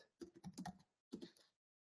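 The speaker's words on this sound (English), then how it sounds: "here I'm going to type the keys" Quick bursts of typing on a computer keyboard, close and fairly quiet, with clustered keystrokes separated by a brief pause and then stopping.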